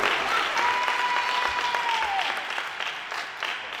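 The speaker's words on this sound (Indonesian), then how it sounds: "Oh, tepuk tangan lagi dong buat David." Audience applause for David at an entrepreneurship talk, a steady even patter of many hands clapping throughout, fairly close, with a faint whistle-like tone briefly in the middle.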